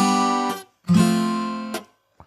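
Strummed guitar chords generated through Carla's MIDI chord and strum plugins ring out twice in succession, each a bright, sustained harmonic chord that decays and cuts off, with a brief third attack at the end.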